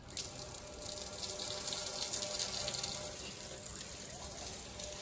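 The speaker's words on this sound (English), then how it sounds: "we are going to wash our hands." Tap water runs steadily into a basin during medical handwashing, a continuous broadband hiss and splash that holds close and fairly even for the whole stretch with no voices.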